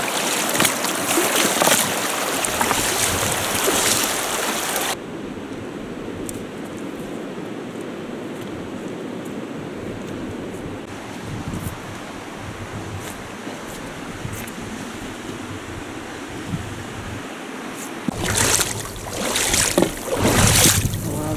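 Water sloshes and splashes steadily as someone fords a river in the Verkhoyansk Range, with louder splashing bursts at the start and end and a continuous flowing-stream wash in between.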